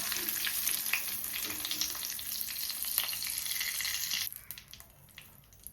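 Curry leaves fry in hot oil for chicken pakoda, giving a steady, close, loud sizzle and crackle that drops suddenly to a quieter simmer near the end.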